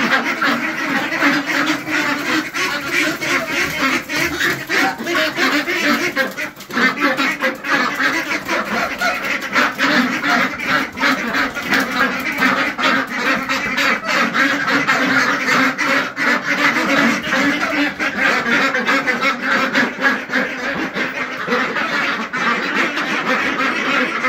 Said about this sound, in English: I'm gonna push these ducks outside.